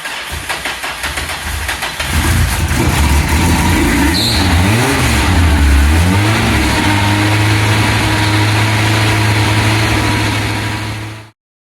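Peugeot 205 engine cranks briefly, then catches and starts, revving up and down a few times before settling into a steady, loud idle close by.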